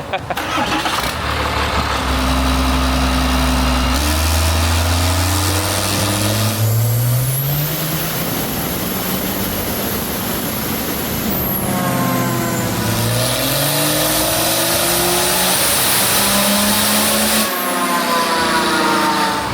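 A truck engine on a chassis dyno with its air cleaner removed and added boost, revving loud and close in long climbing pulls that rise, drop and rise again, with a voice talking over it.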